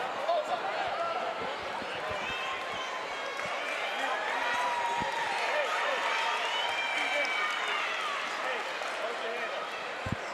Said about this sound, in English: Grand Blanc cheering for that one because they know it is almost over